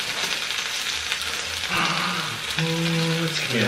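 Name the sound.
burritos frying in oil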